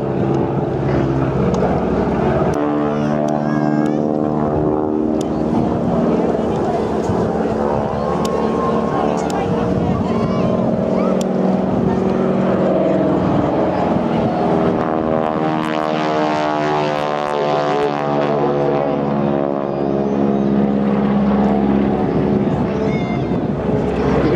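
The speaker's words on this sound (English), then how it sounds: "That very distinctive sound of the aircraft." A loud Boeing Stearman biplane engine drones continuously at an air show, its pitch slowly rising and falling as it passes overhead.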